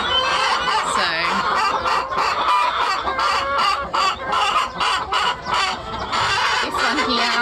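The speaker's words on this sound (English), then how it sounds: "This nesting box has got 1, 2, 3, 4 chickens in it, all laying their eggs right now" Several hens crowded into a farm nesting box while laying eggs, clucking and chattering continuously and loudly close by, with overlapping calls and occasional squawks throughout.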